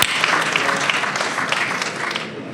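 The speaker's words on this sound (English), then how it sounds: "let's start off with a big round of applause for our power panel." A conference audience applauds a panel discussing gold and the US dollar, with loud, continuous clapping from many hands that stays even and then eases slightly by the end.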